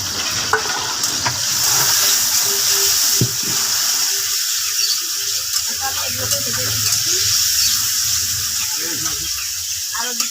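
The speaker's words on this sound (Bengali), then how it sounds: "কাজু আর কিশমিশ ভিজিয়ে রাখা এগুলোকে আমি ভেজে নেবো কড়াই তেলটা গরম হয়ে গেছে" A continuous close sizzle of soaked cashews and raisins frying in hot oil in a wok, with a voice murmuring faintly underneath partway through.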